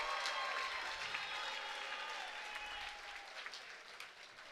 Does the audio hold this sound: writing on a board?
no